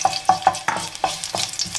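A single clove of garlic fries in about two tablespoons of hot oil for a desi-style spicy Italian pasta, with repeated stirring scrapes over a steady close sizzle and no talking.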